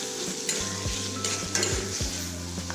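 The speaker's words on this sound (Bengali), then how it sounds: "এখন এই পেঁয়াজ আর লঙ্কাটা আমি হালকা একটু লাল লাল করে ভেজে নেব।" Onion and green chilies fry in oil with a constant sizzle, while a utensil stirs and scrapes the pan in several distinct knocks and sweeps. A low hum runs underneath.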